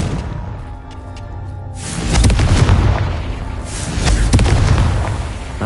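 A Confringo blast spell explodes in Hogwarts Legacy, a loud booming burst that swells in, followed by a second rumbling blast a moment later, with crackling debris over a low roar.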